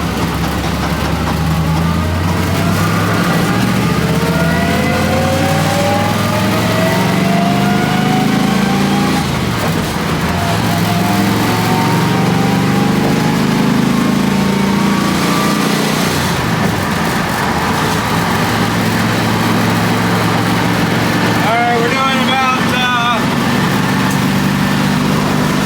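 A street-driven NASCAR race car cruises on the highway, its engine droning loudly and steadily with rising and falling revs throughout.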